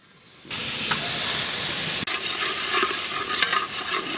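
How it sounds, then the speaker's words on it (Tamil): Butter melts and sizzles in a hot kadai, a sudden loud, continuous frying hiss that starts abruptly and holds steady, with a brief break and faint clinks, close and without talk. "கடாய் சூடாயிடுச்சு. பட்டர் சேர்த்துலாமா? சேர்த்துடலாம்."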